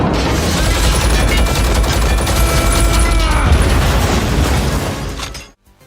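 Sustained, dense gunfire roars from War Machine's heavily armed armor in a Marvel superhero film, a loud continuous barrage of rapid shots and blasts that holds for several seconds before cutting off abruptly.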